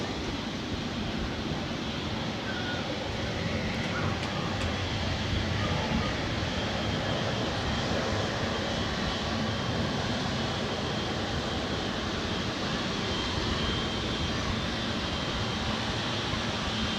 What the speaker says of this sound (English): And we're rolling on runway 28, the Kalamata bound